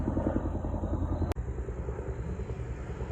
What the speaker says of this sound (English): helicopters are still flying. Not as many, but still flying back and forth. This is military.